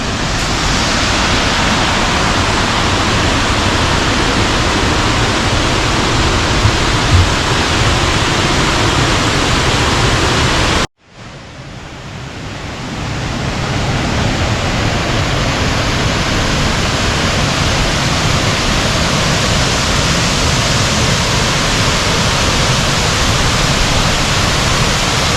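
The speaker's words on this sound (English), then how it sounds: "sure you can hear the rush of the water" A waterfall near drains and caves roars as dense, loud, continuous rushing water, with a brief sharp drop and quick recovery midway, heard close with no voices.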